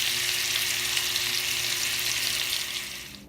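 Salmon fries in a pan while being basted with honey, giving a steady, close, hissing sizzle that fades slightly at the end.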